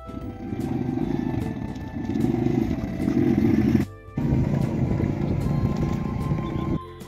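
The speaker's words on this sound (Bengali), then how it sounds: "মোটরসাইকেলের যে শব্দগুলো হচ্ছে পানির উপর দিয়ে যখন যাচ্ছে" A motorcycle engine drones steadily up close, splashing and rushing through rainy-season floodwater in a village, with a brief drop in the noise partway through.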